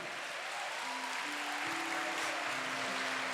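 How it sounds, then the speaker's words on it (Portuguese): Applause from a congregation at a Catholic worship gathering at Canção Nova, a steady wash of clapping that runs the whole way through over soft sustained music. "dá uma salva de palmas para ela"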